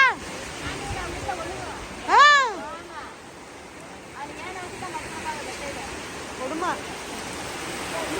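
Steady rain falls outdoors during a storm in the hills, a continuous broadband hiss with wind, while a voice speaks briefly over it.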